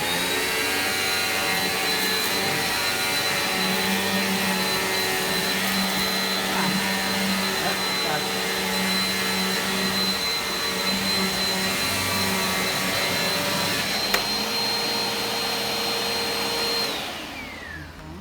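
A Eureka PowerSpeed Turbo Spotlight lightweight upright vacuum runs on a bare floor with a loud, steady whirring roar and a high motor whine. It holds constant throughout, then winds down at the very end.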